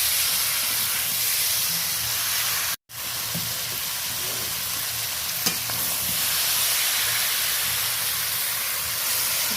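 Cauliflower and potatoes cooked with spices in a hot pan, with water added, give a loud, steady broadband hiss and sizzle that cuts out briefly once, with a faint click later and no speech.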